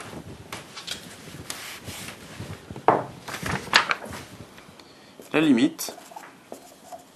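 Marker or chalk scratches and taps on a classroom board during a French mathematics lecture, brief strokes scattered between the teacher's speech, close and moderately loud.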